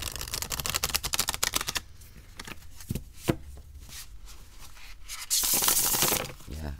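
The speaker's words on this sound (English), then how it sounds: "Really nice to shuffle." Matte cardstock tarot cards riffled and shuffled at close range, a dense burst of rapid flutters at the start followed by scattered soft slides and taps, with a brief rougher shuffle near the end.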